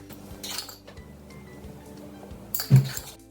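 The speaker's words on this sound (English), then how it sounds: "So crack both of your eggs into a small bowl." Two eggs are cracked into a small bowl in a kitchen, giving sparse light clinks of shell and dishware, then one sharper, louder tap near the end.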